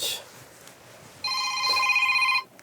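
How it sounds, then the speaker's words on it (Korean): A telephone rings with a bright electronic trill for about a second inside a small general store in a mountain village in Yeongyang County, South Korea, over a quiet room background. "전화 온다"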